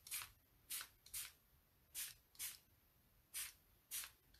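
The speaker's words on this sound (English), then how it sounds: "And then to spray." Seven short hissing sprays from a spray bottle, spaced irregularly with brief quiet gaps between them, close and fairly soft.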